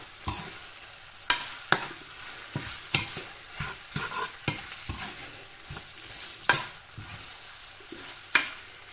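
Glass noodles stir-fried with aromatics in a pan, where a low sizzle runs under frequent spatula scrapes and knocks on the metal, close and busy, with no voices.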